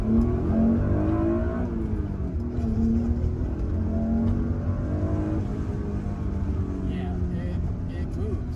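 An Acura NSX NA1 engine accelerates in first gear from about 3,000 RPM, its note climbing steadily in pitch from inside the car, with a driver's voice faint at times beneath the engine.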